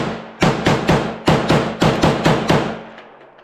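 A 1960 Chinese SKS rifle firing rapidly at an outdoor range: about nine sharp, loud shots in quick succession, each followed by a short ringing decay, before the sound trails off.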